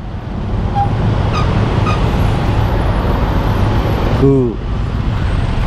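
Busy, congested road traffic near Bogor, a steady dense rumble of passing cars, buses and trucks close by, with a horn-like tone and a brief air-brake hiss toward the end.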